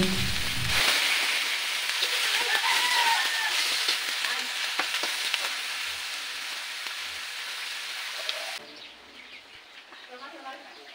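Cabbage fries on a stove, a soft continuous sizzle and hiss that drops quieter near the end, with faint birds and background sounds.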